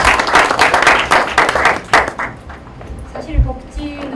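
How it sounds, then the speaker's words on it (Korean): Audience applause for a professor after his keynote at a Korean advanced-welfare-society research forum, a dense burst of clapping that fades after about two seconds, leaving a quieter room where a voice begins speaking. "우리 주제 발표를 해주신 안상훈 교수님께 박수를 다시 한번 드립니다"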